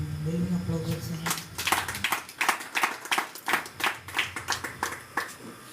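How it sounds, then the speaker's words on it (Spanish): Clapping from a church congregation breaks out after singing fades, a steady rhythmic patter of many hands that holds at an even, moderate level. "Denle un aplauso al Señor."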